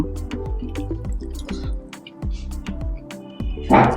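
Lemon squeezed by hand over a bowl of dal in a hotel restaurant: a quick run of close, wet drips and squishes over about four seconds, with faint background murmur.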